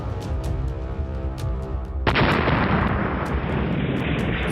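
A car packed with about 40 kg of IED is detonated by security forces in Pulwama, Jammu and Kashmir. A few sharp cracks are followed by one sudden, massive blast that roars on loudly as a sustained rumbling wash.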